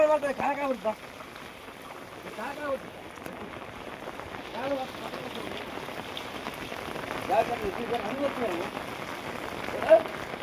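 Heavy rain pouring since morning, with rainwater flowing and flooding into houses; a steady, dense hiss of rain on surfaces continues throughout, with faint voices underneath.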